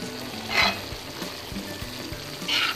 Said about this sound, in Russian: Отправляю в кастрюлю капусту. Я еще добавила сюда столовую ложку томатной пасты.